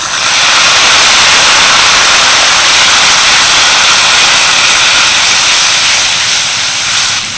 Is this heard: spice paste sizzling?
yes